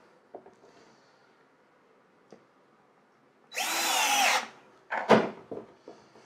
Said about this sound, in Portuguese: Introduzo outro parafuso.